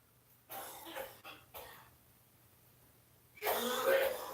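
A few harsh coughs come close together, followed after a pause by a longer, louder coughing fit nearby.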